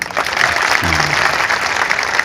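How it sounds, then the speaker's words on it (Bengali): Audience at a school orientation, guardians' gathering and prize-giving ceremony in Lalmonirhat applauding the education engineering department: dense, steady clapping from a crowd, with a brief voice underneath. "শিক্ষা প্রকৌশল অধিদপ্তরের জন্য একটা বড় হাততালি দেওয়া যায় না?"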